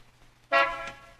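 A single short car horn honk, fairly close, sounds once against a quiet background.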